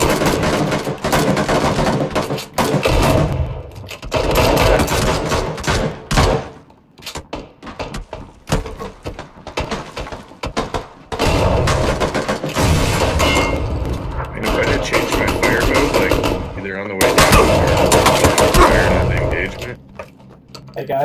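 Sawed-off shotgun blasts and other gunfire ring out in a battle royale video game, with repeated loud booming shots and clatter throughout, and a player talking over the action.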